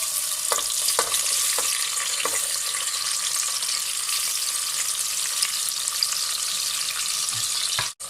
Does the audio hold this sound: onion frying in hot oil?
yes